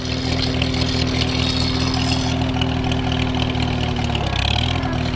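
A steady Farmall tractor engine with an M&W 9-speed transmission in low gear drones loudly with a high mechanical whine riding on top, holding a constant pitch before briefly dipping near the end.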